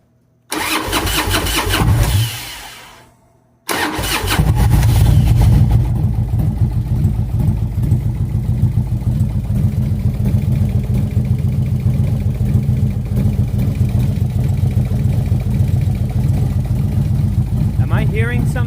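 A 2003 Harley-Davidson Road King engine cranks briefly, stops, then catches and settles into a loud, steady idle that continues to the end.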